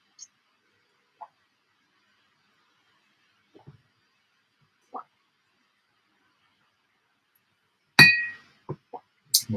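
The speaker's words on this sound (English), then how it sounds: "That glass clinking." Glass clinks sound indoors: a few faint, scattered taps, then a sharp, bright clink followed by several quicker clinks and knocks near the end, with otherwise near silence.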